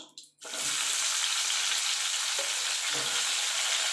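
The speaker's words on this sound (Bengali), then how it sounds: "এবার এই তেলে আমি ফুলকপিটা ভেজে নেব" Cauliflower dropping into hot oil and frying, a loud dense hiss that bursts in after a brief quiet start and holds steady, with faint stirring clinks and no talking.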